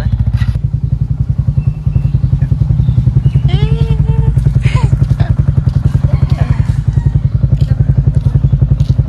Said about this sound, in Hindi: सो गाइस बाइक का दिक्कत है इसीलिए चार जन एक बाइक पे मैनेज कर रहे हैं।